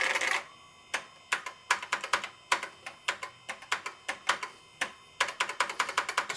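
Keys clatter on a Texas Instruments TI-99 home computer keyboard in quick, uneven bursts of sharp clicks, close and distinct, with brief pauses between runs of typing.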